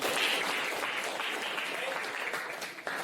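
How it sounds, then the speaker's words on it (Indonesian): A classroom of students clapping together for a teacher's lesson, brief and steady at close range, with a few voices mixed in. "tepuk tangan dulu"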